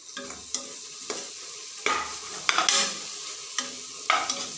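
Mint leaves and spices fried and stirred for biryani, a constant sizzle broken by about eight scraping strokes of a ladle through the pan, close and clear with no voices.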